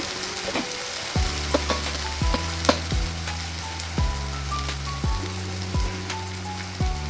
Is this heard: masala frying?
yes